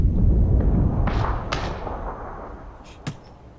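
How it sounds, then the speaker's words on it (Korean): Muffled thuds and a low rumble of grenades and smoke grenades going off in the video game PUBG, with a few sharp hissing bursts and a small knock near the end, at moderate loudness. "수류탄 피해주고 수류탄에 연막 오지게 들어와."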